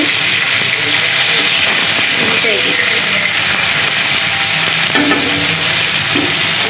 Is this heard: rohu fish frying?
yes